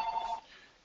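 A telephone rings once in a brief electronic burst that cuts off sharply and fades into quiet room tone, heard alone without talk.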